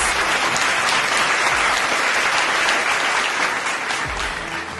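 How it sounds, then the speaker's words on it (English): An audience gives a warm round of applause at a C-Suite community magazine edition launch, honouring a cover-feature guest; dense, steady clapping fills the room from start to finish and eases slightly near the end. "Let us congratulate him and welcome him with a warm round of applause"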